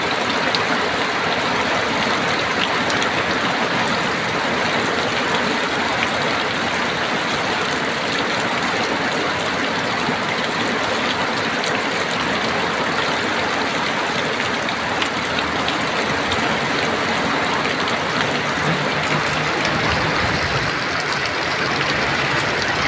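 Heavy rain pours steadily during a stormy wet season in a flooding area, a dense unbroken hiss that stays loud and close throughout.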